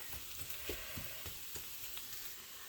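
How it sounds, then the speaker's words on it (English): Ground meat and onions cooking slowly on low heat for shepherd's pie, giving a steady soft sizzle with a few faint stirring clicks, no voices. "I am cooking this on a low temperature because I want this meat to absorb all of this onion flavor."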